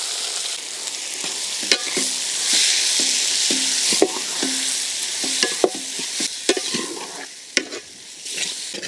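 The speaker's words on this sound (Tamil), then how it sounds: "பாருங்கள் நல்லா வறுப்பட்டுச்சுங்க." Onion frying in hot tempering oil for capsicum egg masala, with a steady sizzle broken by a quick run of sharp spatula scrapes against the pan, close and with nobody talking.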